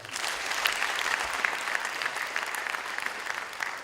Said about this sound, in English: Ladies and gentlemen, let's give a better hearty clap.